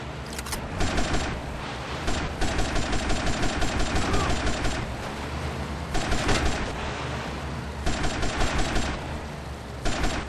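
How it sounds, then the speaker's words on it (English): Gunfire in GTA Vice City, rapid automatic bursts that rattle in quick pulses, with short gaps between volleys and a steady, loud rhythm throughout, lightly mixed with game background sound. "Good shooting, my friend."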